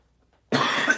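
A single burst of coughing starts abruptly after half a second of silence, close and fairly loud, with rough harsh bursts continuing to the end.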